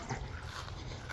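A puppy whimpers softly over steady outdoor background noise, a thin, faint whine with no talking.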